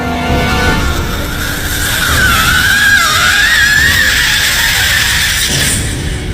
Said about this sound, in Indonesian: sosok perempuan itu membuka lebar mulutnya dan mengeluarkan suara yang sangat menyeramkan